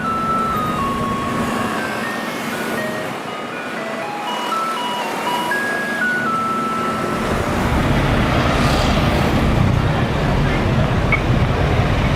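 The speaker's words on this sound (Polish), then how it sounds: "Śmieciarki tutaj tak grają dają znak" A garbage truck in Taiwan plays a looping electronic jingle to signal residents, first clear, then fading into rising street and traffic noise, with engine rumble building toward the end.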